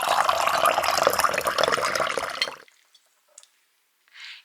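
Saratoga still water pours into a glass in a steady, fairly loud stream for about two and a half seconds, then stops abruptly, followed by a few faint drips or light clinks.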